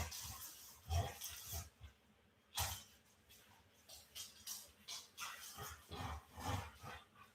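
A dog growling in bursts while tugging on a rope in a tug of war, close and fairly quiet, with irregular throaty rumbles and short pauses between pulls.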